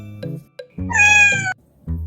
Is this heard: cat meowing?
yes